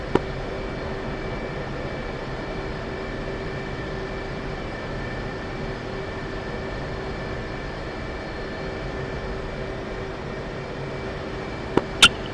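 An aircraft taxis onto a runway in the game Arma Reforger with a steady, droning engine hum and constant tonal whine, bracketed by short clicks at start and end.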